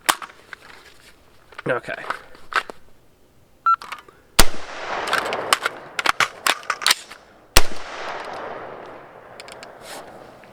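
Gunshots from a BCA 20-inch retro M16 A4 style rifle crack out in irregular single shots outdoors, loud and close with echoing tails, and a voice speaks briefly.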